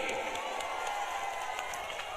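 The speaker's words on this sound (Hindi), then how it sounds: "एक बार जोरदार ताली से मुख्यमंत्री जी का स्वागत कीजिए" Large outdoor crowd at a Bihar election rally for Chief Minister Nitish Kumar, applauding and cheering steadily in a dense, continuous wash of claps and voices that stays fairly even throughout.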